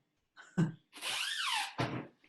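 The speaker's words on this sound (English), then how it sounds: "I think he's over there drilling something." Quiet drilling heard over a video call: a few knocks and thuds, then a rising and falling whine from a power drill lasting under a second, followed by another thump.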